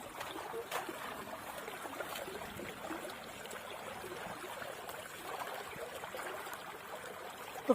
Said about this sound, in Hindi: अब सिर्फ एक साइड में पानी अभी बह रहा है।